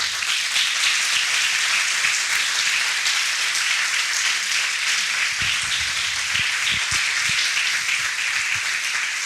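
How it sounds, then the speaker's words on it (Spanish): A church congregation applauds steadily, a dense wash of many hands clapping together for the whole stretch, loud and close, with a few low thumps near the end. "Dale un aplauso al Señor."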